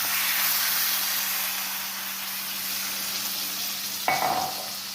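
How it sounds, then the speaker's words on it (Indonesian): Chicken liver and gizzard being stirred with spices in a hot pan give a steady close sizzle and scraping hiss, with a sudden brief splash of sharper sizzling near the end. "Kita aduk perlahan-lahan ya, supaya bumbunya meresap dulu ke dalam atinya."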